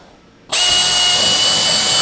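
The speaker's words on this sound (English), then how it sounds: "The locations we just marked, we're going to drill" Power drill boring 13/64-inch holes through the side panel of a PolyJohn portable toilet into its waste tank, starting abruptly after a quiet half second and whining loud and steady at close range, with no talking.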